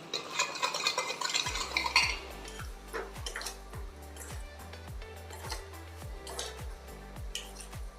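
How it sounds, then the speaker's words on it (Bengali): Paneer pieces are stirred into a spice-and-sugar marinade in a bowl, with a spoon scraping in steady, regular strokes, about a dozen in a row, close and fairly quiet. Brief clinks of utensil on dish come before them. "এই মিশ্রণটাকে ভালো করে মিশিয়ে তার মধ্যে পনিরগুলোকে আমি মাখিয়ে নেব"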